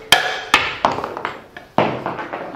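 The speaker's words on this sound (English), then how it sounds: "But all it takes is just a blow with a chisel." A chisel struck to split a wooden block for a square bowl, with a series of about seven loud, close, sharp knocks and taps at uneven spacing, each decaying quickly, with no talking.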